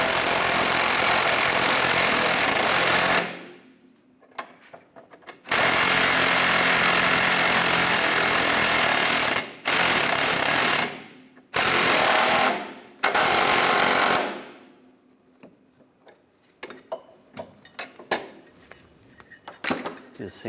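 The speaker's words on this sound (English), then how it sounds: "using a 17mm wrench on the stud and a 15mm socket, I'm going to tighten these down." A 17mm wrench and 15mm socket tighten sway bar link nuts on a 1997-2001 Honda CR-V, heard as loud bursts of rapid ratcheting or impact-tool rattling in several separate runs, then quieter metallic clicks and handling.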